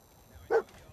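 A single short bark from the dog companion in Fallout 4, one clear yip rising briefly over quiet game ambience.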